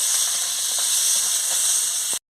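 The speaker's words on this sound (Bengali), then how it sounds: "এবার আমি ক্যাপসিকামটা দিয়ে দিচ্ছি, দিয়ে ভালো করে আমি এটাকে ভেজে নিচ্ছি।" Capsicum sizzles in hot oil in a pan, a loud, close, continuous frying hiss with a few faint stirring clicks, cutting off abruptly at the end.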